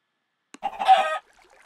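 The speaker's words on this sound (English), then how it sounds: "oh wow, chickens are everywhere" Chickens clucking in the Minecraft video game, a short burst of several close, fairly loud clucks lasting about half a second after a brief click, then near silence.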